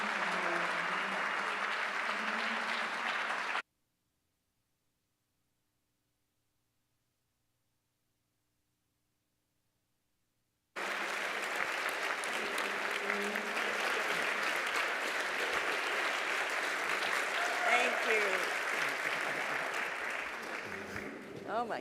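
Warm audience applause at a Detroit Economic Club event welcoming Senator Stabenow, sustained dense clapping from a large crowd that cuts out briefly and then resumes just as strong.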